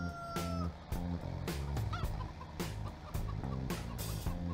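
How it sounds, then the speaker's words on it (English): Chickens cluck and call on a farm field with roosters and other fowl mixed in, a loud, busy flock of repeated bursts close by with no talk. "Oh my god, these chickens."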